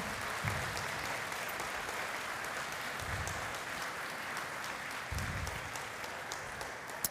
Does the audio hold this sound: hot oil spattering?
no